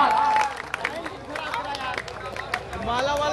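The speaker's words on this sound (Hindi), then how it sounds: "दोस्तों एक बार तालियां बजा दीजिए" Crowd at a Raniganj Pratapgarh mushaira poetry gathering clapping and cheering amid shouts and excited voices, a busy, noisy mix with voices calling over the applause.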